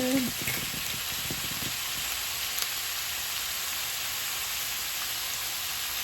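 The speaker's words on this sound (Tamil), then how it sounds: "சோட்டை பண்ணிட்டு வெங்காயம் போட்டாச்சு" Onions sautéing in a pan with fennel and fenugreek seeds give a steady, close hiss of frying, with a few soft stirring knocks near the start and then an even sizzle.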